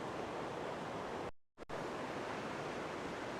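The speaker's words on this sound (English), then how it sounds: "The sound of the rushing river" A rushing river near an old broken bridge in Minakami, Gunma, gives a steady, dense roar of water that cuts out abruptly for a moment before resuming.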